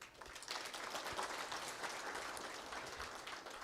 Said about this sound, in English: give yourself a good round of applause